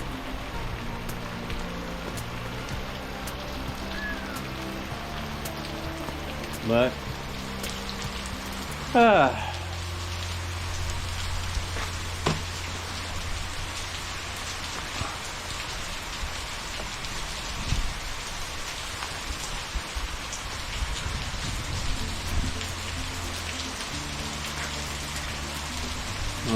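Heavy rain pours steadily outdoors at a work site where electric welding was planned, a continuous hiss throughout with a few brief thumps and a short spoken word.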